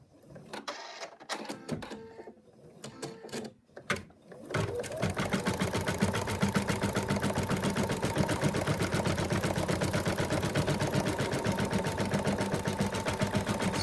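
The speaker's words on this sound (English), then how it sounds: "The machine stitched out the outline of the body" An embroidery machine stitches the outline of a Bruce the Moose design in a loud, steady, rapid mechanical rhythm that runs without pause for ten seconds, after a few seconds of handling noise.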